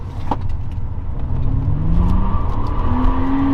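A six-speed BMW 1 Series hatchback is driven hard and gets sideways, its engine note rising steadily through the rev range with faint tire noise, heard from inside or close by.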